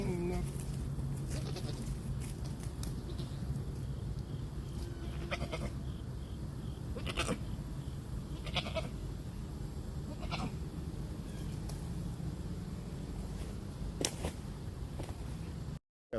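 Goats bleat on a farm in several separate calls, some near and some farther off, spread across the stretch over steady outdoor background noise.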